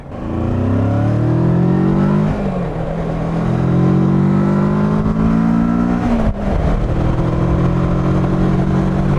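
A 2021 Kawasaki Versys 650 motorcycle accelerates hard and close, its engine note climbing through the gears with a brief dip at a shift, loud and steady throughout with no talking.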